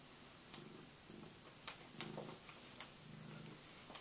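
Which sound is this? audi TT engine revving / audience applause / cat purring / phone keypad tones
cat purring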